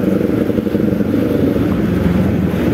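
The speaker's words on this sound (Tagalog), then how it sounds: "Big bike yata yun." A big motorbike engine passes close by, a loud, steady low growl that holds throughout with no talk over it.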